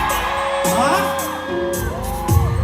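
A concert crowd at a show whoops, shouts and cheers loudly throughout, with a voice speaking briefly over the noise and tonal sounds running underneath.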